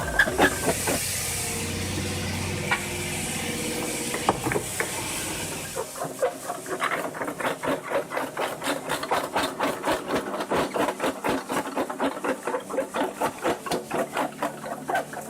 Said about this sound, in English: The rotating shaft drives the movable jaw against the fixed jaw,